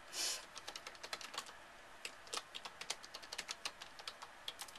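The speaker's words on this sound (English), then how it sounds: "I type in my email address" Typing on a computer keyboard, a run of quick, light key clicks at an uneven pace with short pauses, close but fairly quiet, no voices.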